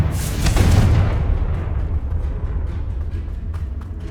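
A Confringo blasting spell goes off in the Hogwarts Legacy video game: one loud, close explosive boom that trails into a long, low rumbling decay with no voices.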